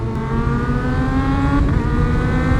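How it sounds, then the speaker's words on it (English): A Kawasaki Z H2 motorcycle fitted with a loud aftermarket full exhaust revs up close by. The engine note climbs steadily in a loud, continuous drone. "On a bike like this, having the loud exhaust is the experience, right?"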